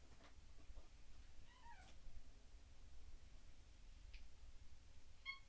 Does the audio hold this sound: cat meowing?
yes